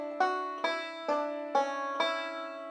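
A banjo plays a melodic lick as a right-hand forward roll, five or six evenly spaced plucked notes ringing clearly and close, alone.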